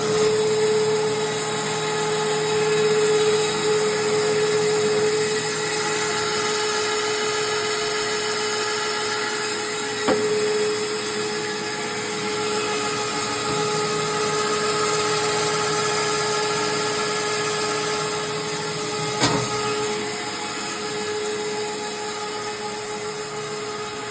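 A BIRO 3334 meat band saw runs steadily with a constant close motor hum and a thin high whine from the blade, with a couple of faint clicks along the way and no talking.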